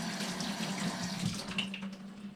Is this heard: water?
yes